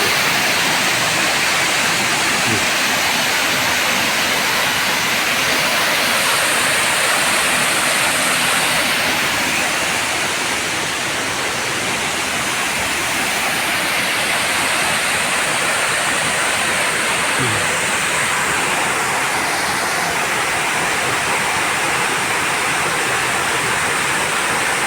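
A waterfall rushes in a loud, unbroken roar of white water that stays steady and close throughout, with no other sounds standing out.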